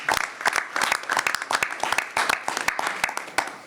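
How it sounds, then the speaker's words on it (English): Round of applause from people at a school finance and personnel committee meeting, with a steady wash of many hands clapping close by for a few seconds. "a congratulations and a round of applause"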